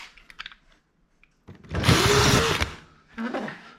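Power drill driving a screw through a heated ceiling panel into the furring strip: a loud, close whirring burst of about a second, then a shorter second run, with handling noises between.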